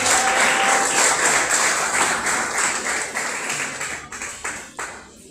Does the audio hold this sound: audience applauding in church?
yes